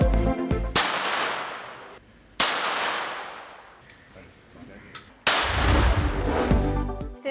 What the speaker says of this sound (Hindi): सिपाही सालार ने खुद भी पिस्तौल से फायरिंग करके महारत दिखाई